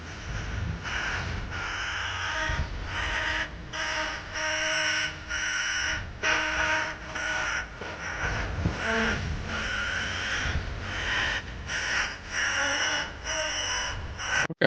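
Repeated harsh caws from crows, several birds calling in irregular bursts that fill the whole stretch at close, steady loudness with no voices.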